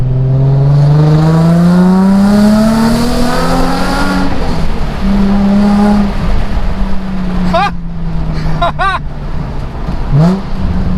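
A loud Nissan 350Z sports car exhaust drones and revs, then drops through several quick downshifts with sharp crackling blips, close and continuous.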